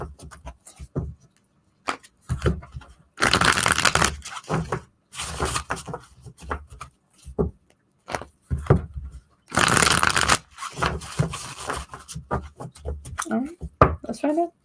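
Tarot cards are shuffled by hand in three loud, rustling bursts of riffling and scraping, with short pauses and some speech between them.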